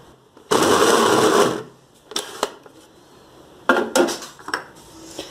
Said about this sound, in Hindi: अब हम इसको पीस लेंगे।